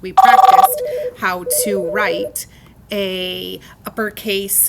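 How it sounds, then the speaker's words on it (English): A telephone rings in a short burst of rapid pulses at the start of a lesson, after which a teacher keeps speaking over the quiet room. "I'm sorry about the phone call."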